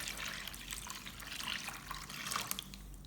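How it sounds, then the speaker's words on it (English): Rinsing water poured over black sesame pulp in a bowl, a steady close trickle and splash with soft dripping, alone with no talk. "Pour the rinsing water over the sesame pulp."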